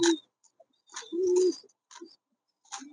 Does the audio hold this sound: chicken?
no